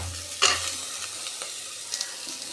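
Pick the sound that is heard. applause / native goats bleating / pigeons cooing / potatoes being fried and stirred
potatoes being fried and stirred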